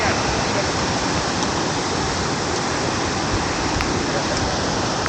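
Water from a mountain stream flows beneath a trekking trail on the Friendship Peak trek near Solang Valley, Manali, in Himachal, as a steady, loud, unbroken rush with no voices over it.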